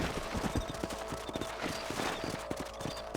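Horse hooves galloping in the Red Dead Redemption video game, a fast, even clatter of close, loud hoofbeats continuing over a constant background of game sound.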